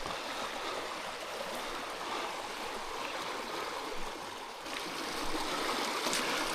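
A small mountain creek flows nearby, a steady, full rushing and babbling of water at moderate level, alone without voices.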